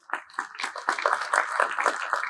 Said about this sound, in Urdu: تو تالیاں ہیں یا نہیں ہیں؟